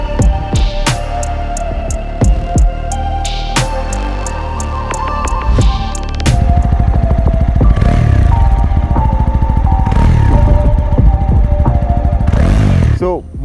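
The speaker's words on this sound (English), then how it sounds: "And of course, with the dB killer off, it's not as loud as before as well." A Mahindra Mojo touring motorcycle runs with its dB killer removed, a loud, close engine exhaust that idles unevenly and then revs in rising bursts with throttle blips, audible beneath an engine-dominated recording.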